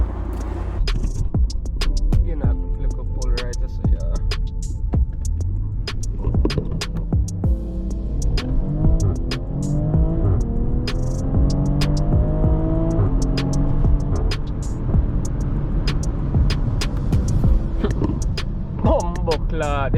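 BMW X3 M40i with a stage 1 tune and catless downpipe, its exhaust throbbing and droning loudly with a rising rev that builds and falls off near the end, heard from inside the car as someone talks over it.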